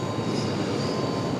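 Steady, loud jet engine roar, a continuous broadband rush with a faint high whine, from a CRJ regional jet nearby at Raleigh-Durham International Airport.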